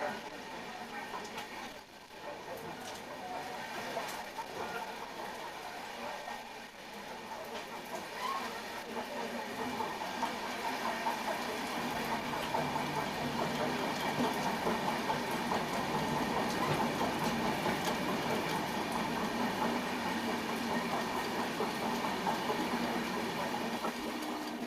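Okha Rameshwaram Express (16734) running through a crossing with a halted Chennai Central Shatabdi Express, a steady rolling rumble and rattle of coaches from onboard that swells slightly and holds continuously, with faint voices beneath.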